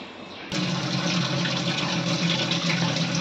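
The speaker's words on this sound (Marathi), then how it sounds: "थोडंसं आपण यामध्ये पाणी घालूया" Water poured into a pan of simmering Marathi fish curry gravy, a steady close splashing pour that starts abruptly and runs continuously without pause, with no talking.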